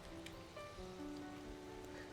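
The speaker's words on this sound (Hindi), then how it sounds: "कल रात से बारिश लगी हुई है तो लगी हुई है, बिल्कुल कंटिन्यू बोलते हैं जिसे।" Heavy, continuous monsoon rain falls on a village and patters steadily on surfaces as a faint, even hiss with no pauses and no one speaking.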